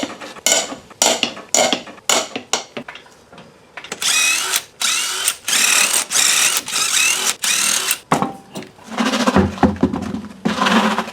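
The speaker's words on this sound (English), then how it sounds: "take your 36 off, slam on a 22mm, break them lug nuts loose, jack this thing up, and remove the tire" A power tool with a 22mm socket spins off lug nuts on a GMT800 truck wheel in loud, close bursts of whirring and ratcheting, separated by short pauses.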